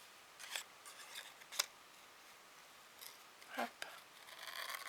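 Scissors cut paper along a traced outline, giving a few quiet, separate snips spread irregularly through the clip, with soft rustling of the paper between them.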